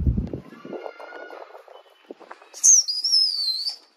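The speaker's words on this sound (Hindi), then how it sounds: "ये देखो दोस्तों दादा डॉन भाई की सीटी देख लो" A whistle made from a jam jar lid is blown, a shrill wavering high tone lasting about a second and a half after some rustling and a brief low voice.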